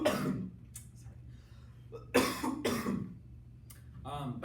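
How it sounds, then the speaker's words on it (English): A person coughs a couple of times, a burst early and two stronger coughs in the middle, with faint breathy sounds between. "I have to cough."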